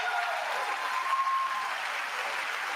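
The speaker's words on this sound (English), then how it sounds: "Some of them are clapping, though." Steady applause fills the chamber at the State of the Union address, a sustained wash of many hands clapping at even loudness throughout, with no speech over it.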